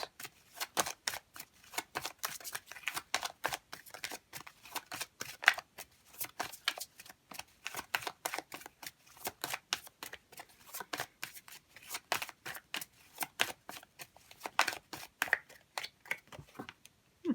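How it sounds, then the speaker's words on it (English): Oracle cards shuffled by hand for a pick-a-card tarot reading, producing a long run of quick, rhythmic papery riffles and flicks, close and fairly quiet, with short pauses between bursts. "let's see if we can get a final oracle card here for pile number 5 viewers"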